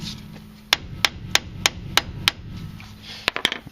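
A hammer taps on the lower strut bolts of a 2000–2005 Hyundai Accent, giving six evenly spaced sharp metallic strikes followed by a quick cluster of three more, heard close and alone.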